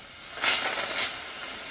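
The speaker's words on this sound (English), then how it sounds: "I'm just gonna let them sizzle there" A soft, steady sizzling hiss from small pineapple squares in a pan over low heat, swelling briefly twice, with no talking.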